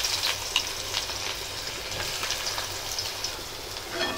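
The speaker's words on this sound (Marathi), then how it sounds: "कांदा थोडा परतून घेऊया" Onion sautéing in hot oil with cumin, curry leaves and asafoetida for a spicy Marathi chutney, a steady close hiss and crackle with light stirring scrapes throughout, no voices.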